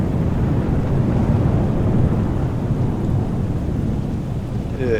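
Simulated rain falling inside an aircraft hangar in Microsoft Flight Simulator 2020 at Notodden Airport, a loud, dense, unbroken hiss and patter with a low rumbling undertone throughout.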